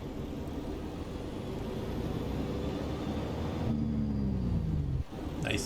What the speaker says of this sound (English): the Jake brakes on this sound fantastic